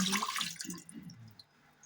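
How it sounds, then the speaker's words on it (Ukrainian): Water splashes briefly as it is poured from a jar into a pot, then trickles off into faint drips within a couple of seconds. "Я наливаю воду баночку і виливаю її в каструлю."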